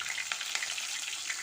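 Green chilies frying in hot oil with cumin seeds, a steady close sizzle with bright crackling spatter pops scattered throughout, no voices.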